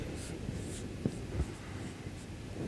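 Chalk or marker writing on a board during a lecture gives soft scratchy strokes and a few light taps in a quiet room.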